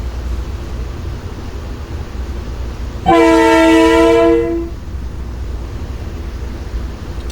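A PNR M2 subway train at Herald Square sounds a loud, sustained horn blast of about a second and a half over the steady rumble of the train as it arrives.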